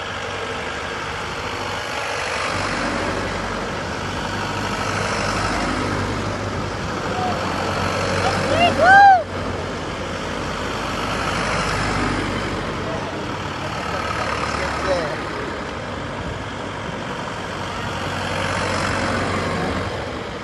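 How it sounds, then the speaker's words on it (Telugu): Heavy engines rumble steadily on a group road trip to Araku, with one brief squeal near the middle. The sound is a continuous, fairly loud drone with a voice faintly present. "మరి ఇదిగో వాహనాలు"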